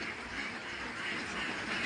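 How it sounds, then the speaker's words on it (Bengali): A large duck farm in Panchagarh, Bangladesh, holding thousands of laying ducks and drakes, fills the air with a dense, continuous wash of overlapping quacking from many birds at once, steady and moderately loud. "হাঁস আছে ডিম পাড়ার অবস্থায়, আর 1000 আছে পুরুষ হাঁস।"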